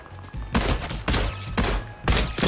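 Bursts of Fortnite gunfire in four loud, evenly spaced volleys, each a rapid cluster of shots, heard alone without talk.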